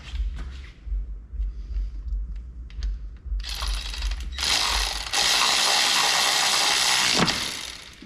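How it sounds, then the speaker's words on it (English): A ratchet clicks in short bursts as it turns a bolt during reassembly of a Holden Torana cylinder head, then gives way to a louder, sustained mechanical whirring up close. "Now see if that ratchet will get in there"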